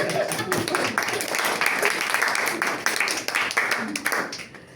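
A group of participants at a leadership workshop claps together in a dense, steady burst of applause lasting a few seconds, heard from mid-distance with some voices mixed in.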